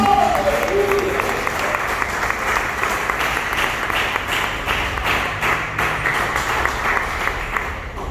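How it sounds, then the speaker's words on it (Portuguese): Church congregation applauding during a sermon, steady rhythmic clapping from many people with sharp individual claps standing out, loud and close, sustained over several seconds as a voice speaks briefly at the start. "Quem crê, dá uma salva de palmas para Cristo."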